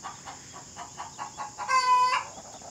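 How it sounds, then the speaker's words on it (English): Hens cluck in a steady rhythmic series of short calls while one lays an egg, ending in a louder drawn-out squawk near the end. "One of the chickens is laying an egg and the other one is rooting for her."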